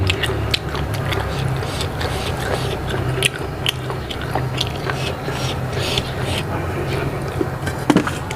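Close, steady chewing of tough, stringy beef during a meal of grilled golden apple snails with spicy seafood dip, with repeated wet bites and crunches continuing for the whole stretch under a low background hum.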